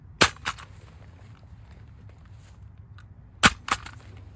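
Two pairs of sharp rifle gunshots, each a crack followed quickly by a second, spaced about three seconds apart with quiet between, from a Monstrum Archangel scoped rifle fired after a scope mount drop test.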